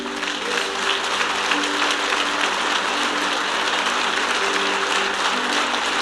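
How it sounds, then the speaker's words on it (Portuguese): Steady, dense applause from a large church congregation, sustained at an even level throughout with no break. "Dê uma linda salva de palmas ao Senhor."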